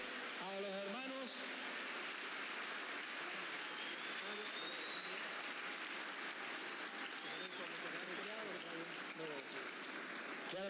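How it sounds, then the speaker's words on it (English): Warm applause from an audience at a church dialogue between Adventist pastors and a Catholic priest, a steady wash of clapping lasting about eleven seconds, with voices calling out and talking over it. "Let's give a warm applause to the brothers"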